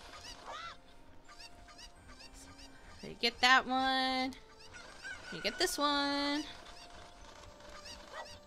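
Cuckoos in Zelda: Ocarina of Time cluck and squawk in short bursts of two loud, harsh honking calls with scattered chirps around them, while a person talks quietly over the game.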